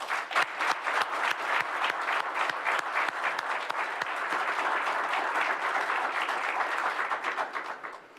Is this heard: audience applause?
yes